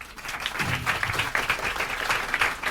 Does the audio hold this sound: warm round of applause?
yes